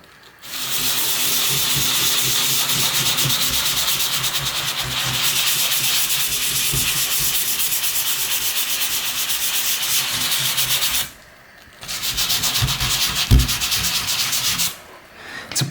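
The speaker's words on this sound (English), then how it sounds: "So what I'm going to use is just 240 grit sandpaper. Give it a very light sand." A door gets a light sanding by hand with 240 grit sandpaper, a loud, continuous close-up scratchy rubbing that runs for many seconds, pausing briefly twice before resuming.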